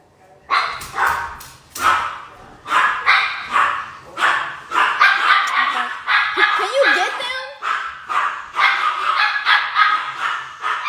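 Dogs bark repeatedly in bursts throughout, with some higher yips and whines mixed in, loud and close, alongside a person talking.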